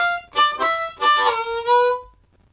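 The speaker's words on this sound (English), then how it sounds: "So then if you were to do that with that three draw bend." Blues harmonica tongue-block lick using a three draw bend, four reedy phrases in a row, close and full, the last note sliding down and stopping cleanly.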